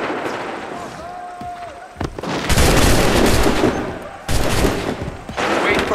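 Musket volleys in Assassin's Creed 3, two loud crackling bursts of massed gunfire following a brief whistling tone, each ringing out and decaying with battlefield rumble.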